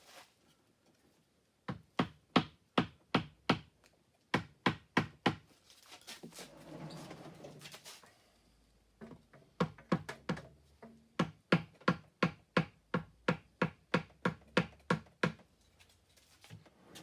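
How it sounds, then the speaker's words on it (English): Repeated knocking on a handmade ceramic pot, crisp rhythmic raps in quick even runs with a brief pause for a softer scraping rustle in between, close and clear in a quiet room. "Just needs more knocking."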